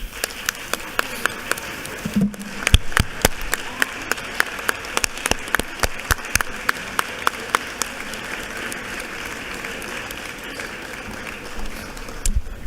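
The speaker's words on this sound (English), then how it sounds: "Let's give Coach Alman and the Norcross Running Club a big round of applause." Applause fills a state legislative chamber session, with sharp individual claps standing out over a steady wash of clapping from a sizeable crowd, sustained throughout without speech.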